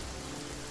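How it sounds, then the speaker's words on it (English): A rain spell cast in Divinity Original Sin gives a brief, faint wash of steady hiss, like rain pattering on a surface. "Why would you cast rain?"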